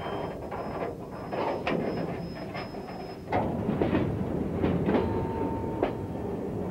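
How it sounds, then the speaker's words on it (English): Coal train of empty hoppers moving out at a mainline switchback, a steady rumble of rolling cars with clickety-clack wheel beats and a faint squeal, heard close and continuous. "Back together now, the train moves out."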